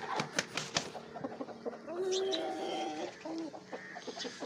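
Chickens on a fighter-rooster keeping ground, a hen having just eaten grain, giving soft repeated clucks and short calls with scattered pecking and rustling nearby, fairly quiet throughout.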